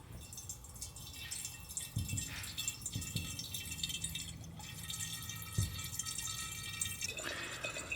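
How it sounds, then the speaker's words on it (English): Distilled water poured from a container into a McCulloch steam cleaner's tank, a soft trickling and dripping with a few light plastic clunks, close and fairly quiet. "I got distilled water to the fill line. Let me try to pour this in here,"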